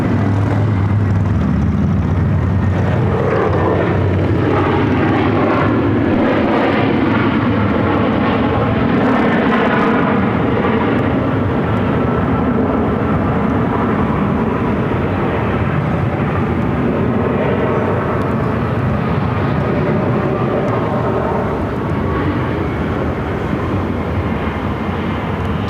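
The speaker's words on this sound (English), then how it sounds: "This is Frontier Flight 1827 from Chicago. Airbus A321, Max the Lynx livery." A Frontier Airlines Airbus A321 jet at Phoenix airport gives a loud, steady engine roar with a broad rumbling wash that holds for the full stretch and slowly shifts in tone as it moves, with no talk over it.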